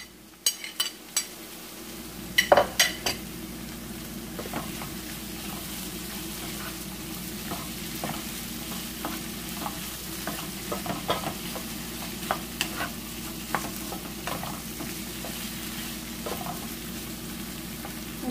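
Ethiopian awaze tibs frying in a pan as onion is stirred in, a steady close sizzle with scattered scraping and clinking of utensils, loud clatter near the start, then continuous frying with no voices.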